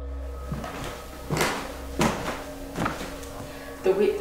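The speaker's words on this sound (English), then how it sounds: "So how did that door close that way? And slam." An old door in an abandoned 1960s ghost town building bangs shut repeatedly, several sharp knocks and slams spaced about a second apart, with a faint background hum and occasional voices.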